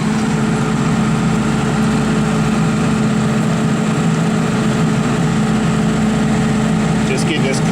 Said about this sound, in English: the backup generator is going to go through a 5-minute cool down and shut off